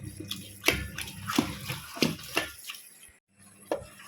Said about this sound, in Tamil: அது கூட இருந்தால் கொஞ்சமாக தண்ணி ஊற்றுறேன்